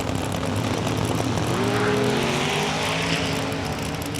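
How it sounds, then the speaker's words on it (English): A turbocharged race car roars past at a drag strip during a spring race, a loud continuous engine howl with a rising and falling pitch sweep as it passes close by, with no talk over it. "Sounds like Burnett's a turbo car"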